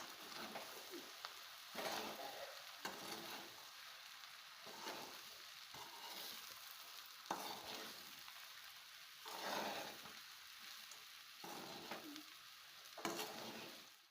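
Sabudana khichdi stirred in a pan, the spoon scraping and pushing the sago in repeated bursts over a steady soft sizzle, close and alone with no voices.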